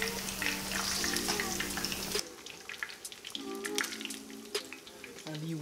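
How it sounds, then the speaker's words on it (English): Catfish nuggets frying in hot oil give a dense, close crackling sizzle that drops in level partway through, with clinks and splashy kitchen handling sounds around it. "Our first batch of catfish nuggets coming out of the hot oil."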